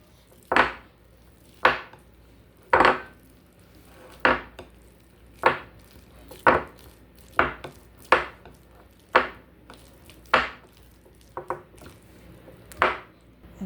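Bananas being mashed for banana pancakes, a series of about a dozen firm knocking thuds against a bowl or board at an uneven, unhurried pace, close and clear with no talking.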